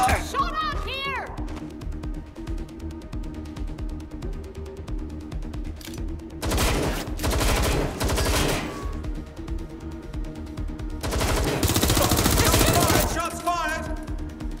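Gunshots in Watch Dogs Legion, two loud bursts of rapid fire, each lasting about a second or two and separated by quieter stretches of in-game ambience and voices.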